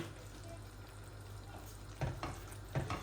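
Food frying in a pan on a lowered flame while vegetables cook for a mixed vegetable pasta: a steady, quiet sizzle throughout, with two brief louder stir or clatter bursts near the end.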